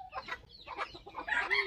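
Chickens cluck up close in a quick, uneven series of short calls, with a higher squawk near the end, standing alone against quiet surroundings.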